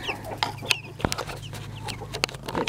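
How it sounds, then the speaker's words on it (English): Chicks peep and cheep in short, high bursts, several close by, with scattered clucks and a soft thump amid light background noise. "These are the baby chickens."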